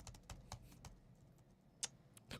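Rapid, fairly quiet clatter of keys being struck on a computer keyboard, an irregular run of taps with a few louder hits, close by with no talk.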